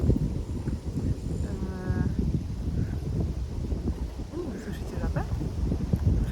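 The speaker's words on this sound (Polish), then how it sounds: "słyszycie wiatr" Steady wind rumbling and buffeting against the microphone throughout, a low roaring noise with a few faint sounds mixed in.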